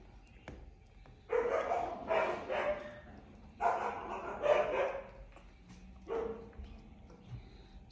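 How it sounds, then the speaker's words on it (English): Two huskies play fighting, letting out several short, close barks and yips in bursts, with quieter gaps between them. "Two husky play"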